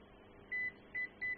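Three short electronic continuity-tester beeps, one longer then two quick, sound over a soldered PCB's pins, faint against a steady low bench hum, with no talking.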